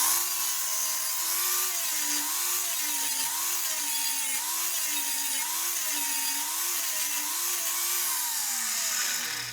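Angle grinder cutting rivet heads off steel bed frame angle iron, a loud continuous whine that rises and dips in a repeating wavering pitch as the disc bites, with no talk.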